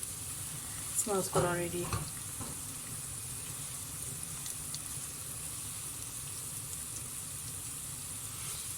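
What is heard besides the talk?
lamb meat frying with onions in a pot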